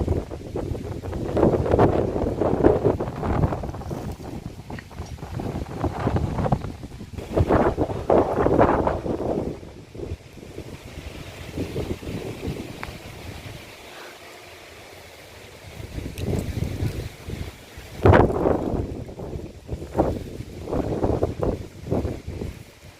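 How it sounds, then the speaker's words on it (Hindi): A strong, cold wind blows hard and steadily before rain under a dark sky, roaring as it buffets the microphone, easing briefly before gusting loudly again. "और जोरों की हवा चल रही है, इतनी ज़ोर से और ठंडी ठंडी हवा चल रही है।"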